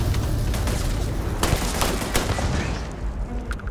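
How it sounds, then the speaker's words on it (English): Explosions and rapid gunfire from a turret fight in the space game Starfield, loud and dense bursts crackling over a steady roar for a few seconds, with sharp individual blasts standing out near the end. "Things are exploding."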